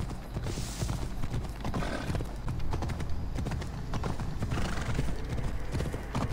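A horse galloping in Assassin's Creed Odyssey, with rapid, continuous hoofbeats and occasional snorts and whinnies, loud and close throughout.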